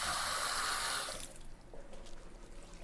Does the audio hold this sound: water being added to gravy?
yes